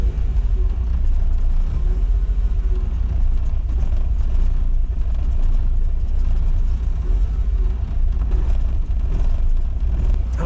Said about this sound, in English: The engine actually sounds smooth.